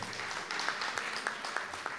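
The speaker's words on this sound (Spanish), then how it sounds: "Fuerte el aplauso al señor." Faint applause at a neighbourhood prize-draw event, a thin steady patter of clapping from a small crowd, heard at a distance.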